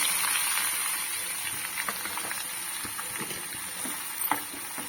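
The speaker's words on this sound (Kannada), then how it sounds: "ಒಂದು ಸ್ವಲ್ಪ ಇದು ಹುರ್ಕೋಬೇಕು ಎಣ್ಣೆ ಒಳಗೆ ಹುರ್ಕೋಬೇಕು" Chopped fenugreek greens with curry leaves fry in hot oil, a soft, continuous sizzle up close, broken by a few light scrapes and taps as the greens are stirred.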